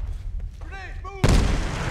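A grenade goes off in Medal of Honor: Warfighter, a sudden loud broadband blast that cuts in after brief tonal game chatter and carries on as a sustained roar to the end.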